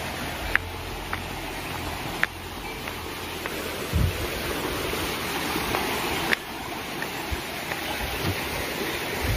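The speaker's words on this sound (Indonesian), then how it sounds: "ini adalah kali tempur, pertemuan dua sungai ya" Steady broadband rush of river water at the meeting point of two rivers in a shaded forest area, continuous and moderately loud, with a few faint knocks and clicks nearby and no talking.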